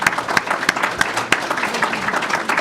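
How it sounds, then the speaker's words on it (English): Audience applause for a speaker at a public policy forum on an Ohio drug price ballot issue, a dense steady patter of many hands with a few sharper claps standing out, moderately loud and continuous. "So give him a round of applause."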